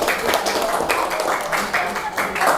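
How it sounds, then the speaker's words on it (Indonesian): A classroom of students claps for a classmate after a correct answer, a brisk, fairly close patter of many small hands in uneven rhythm, continuing throughout with faint voices underneath. "Oke, boleh tepuk tangan."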